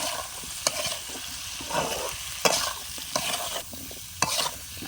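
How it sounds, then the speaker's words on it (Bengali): Potatoes frying with turmeric, chili powder and salt, stirred with a spatula: a constant low sizzle broken by several distinct scraping strokes against the pan, close by. "আলুটা ভালো করে নাড়াচাড়া করে কষিয়ে নেব"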